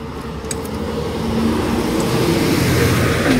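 Vehicles pass on a road, with a rumbling engine and roadway noise building gradually from moderate to louder as traffic approaches, heard nearby from the roadside with no talk.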